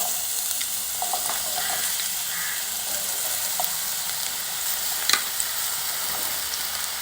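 Bottle gourd pieces fry in hot mustard oil in a pan, a steady close sizzle and crackle with a few faint stirring clinks.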